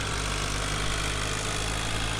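Ford 3000 tractor engine idling in Farming Simulator 2013, a steady low droning hum with an even, unchanging tone that holds the same level throughout, with no voices over it.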